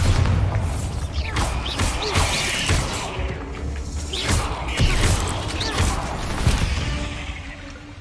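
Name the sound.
Bombarda blasting spell explosion in Hogwarts Legacy video game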